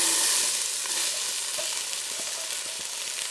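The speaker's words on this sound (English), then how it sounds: "So we're just adding our onion to this." Chopped onion hits hot oil in a pan and sizzles, a bright steady hiss that eases slightly over time, with occasional soft clicks of tossing, near and without talk.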